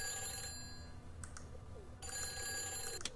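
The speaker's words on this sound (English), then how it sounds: "Oh, the phone's ringing." A telephone rings in Nancy Drew: The Phantom of Venice video game, two electronic trill bursts over a steady low ambient hum, moderately loud and alone without talk.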